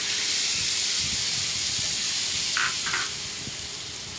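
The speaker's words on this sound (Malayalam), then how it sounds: "ഇത് എല്ലാം റോസ്റ്റ് ആയതിന് ശേഷം നമ്മളിവിടെ പിഴിഞ്ഞ് വെച്ചേക്കുന്ന പിഴിപുളി ഇതിനകത്തിലോട്ട് ഒഴിച്ചു കൊടുക്കാം" Tamarind extract is poured into hot roasted spices in a pan, setting off a broad, steady steamy hiss that stays loud throughout and eases slightly toward the end, with no talking.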